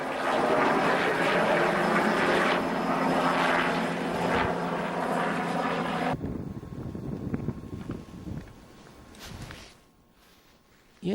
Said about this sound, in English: it wasn't a plane, it was a helicopter